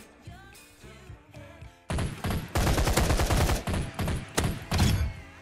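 Gunfire in the video game Blitz Arena, dense rapid bursts of automatic shots and thumping impacts that erupt after a quieter opening and continue loud and close in repeated volleys.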